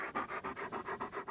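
A black chow chow dog pants close by in quick, even breaths, about eight puffs in just over a second, alone without talk.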